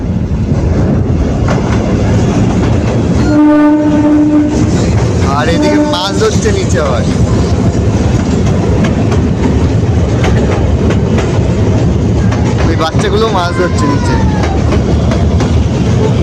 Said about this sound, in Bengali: এদিকে ট্রেন আসছে